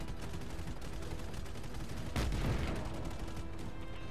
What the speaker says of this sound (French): plein d'explosions autour de moi là